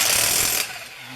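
Air impact wrench loosening a 19 mm lug nut on a 2006 Subaru Outback XT Limited during rear shock replacement: a loud, close burst of rattling hammering that stops abruptly partway through.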